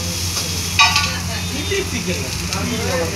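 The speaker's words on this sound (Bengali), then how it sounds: "একদিকে চিকেন রোলের চিকেন ফ্রাই হচ্ছে" Chicken fries in a restaurant kitchen for chicken rolls, sizzling steadily with scraping stirs, and a loud clatter comes near the start.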